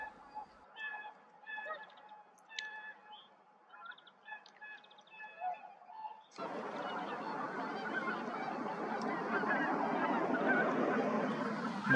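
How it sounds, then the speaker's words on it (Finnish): Whooper swans calling in flight over a field: scattered bright honking notes ring out at a distance, then give way to a steady, broad rush of noise in the second half. "Mihin nämä joutsenet on matkalla?"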